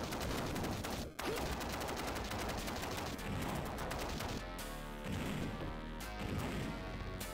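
Sustained rapid shooting with crashing impacts in the Mega Drive game Demolition Man, loud and continuous for several seconds with only brief dips between flurries.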